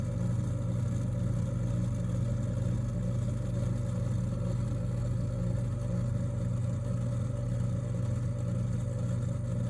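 A small water pump drones steadily while draining a 40-gallon aquarium, a continuous low motor hum with a faint rattle holding even for the whole stretch, with no voices.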